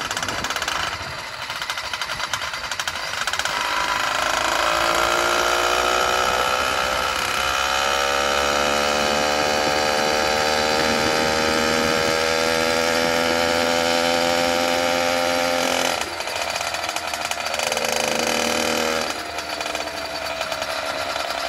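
The brand-new two-stroke engine of an F-Zero A301 motorized bicycle runs just after its first start, a loud, continuous buzzing rattle close by whose pitch rises and falls as the throttle is worked.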